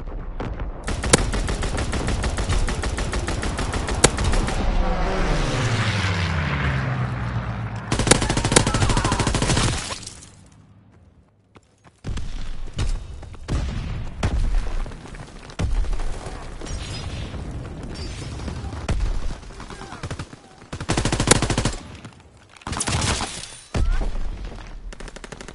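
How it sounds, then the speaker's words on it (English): Naval gunfire and explosions in a PS4 video game: repeated loud, rapid bursts of heavy cannon and machine-gun fire with booming blasts, one long barrage followed by a brief lull and then many shorter volleys. "Firing primary battery."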